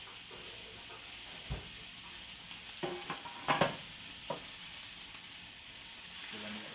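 Chicken breasts fry in a pan, browning on each side, giving a steady close sizzle with a few brief stirring or shifting knocks and no talk.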